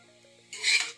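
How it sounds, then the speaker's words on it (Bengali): Carrot halwa being stirred in a pan gives a dry scraping rasp that starts halfway through after near silence, swelling loud and close then easing off. "আমি এখন নাড়াচাড়া করছি"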